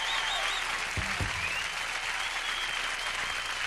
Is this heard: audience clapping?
yes